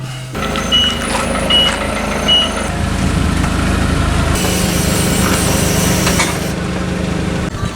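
A Cummins 6.7 diesel engine on a boat runs steadily with a deep, even rumble, joined early on by a few short, high beeps.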